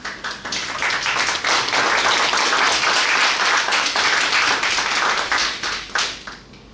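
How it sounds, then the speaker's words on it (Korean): A lecture audience gives warm applause to welcome former Justice Minister Chun Jung-bae, a full, dense burst of clapping that builds quickly, holds steady for several seconds, then tapers off. "우리 천정배 장관님을 여러분의 뜨거운 박수로서 모시겠습니다"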